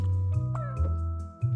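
A cat in Cats Organized Neatly meows repeatedly, loud and close, in a rapid series of short tonal calls.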